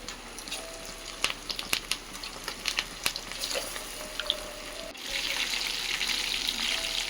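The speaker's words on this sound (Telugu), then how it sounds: "ఆయిల్ కాగిన తర్వాత చికెన్ పకోడీ పీసెస్ని దాంట్లో వేసుకోండి" Chicken pakodi pieces going into hot oil, with a few clinks and light stirring at first, then a steady, loud bubbling sizzle that swells and fills the remaining seconds.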